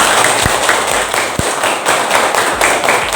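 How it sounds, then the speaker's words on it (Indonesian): A class of students applauds in a loud, continuous clatter of many hands, with a few sharper thumps standing out now and then. "Duduk kembali dan beri tepuk tangan."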